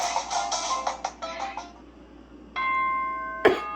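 Announcement chime from the Danganronpa: Trigger Happy Havoc video game on Nintendo Switch: a run of bright electronic tones, then a held ringing tone that ends with a short sharp click, heard alone.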